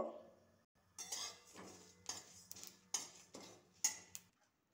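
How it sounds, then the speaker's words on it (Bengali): A spatula scrapes and clinks in a dry pan while cumin, fennel and dried chillies are roasted, coming in a series of short, close bursts with brief pauses between them. "এবার শুকনো খোলায় আমি এগুলোকে ভালো করে ভেজে নেব"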